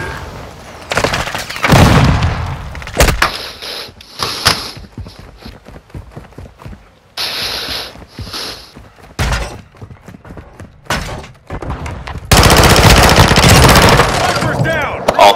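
Bursts of automatic gunfire and scattered shots in Call of Duty: Modern Warfare II, loud and close, alternating with quieter gaps and a sustained heavy volley near the end, with game voices calling out over the action.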